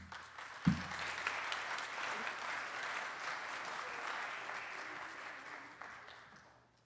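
Audience applause for award winners at a charity gala, a sudden burst of steady, dense clapping from a large room that carries on for several seconds before tapering off.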